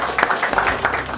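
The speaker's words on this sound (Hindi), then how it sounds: "आपकी भरपूर तालियों में जनाब कमर ज़मान" An audience applauds to welcome a former cricketer to the stage at a Pakistan 75th anniversary event, with dense clapping that is close and fairly loud over a short burst.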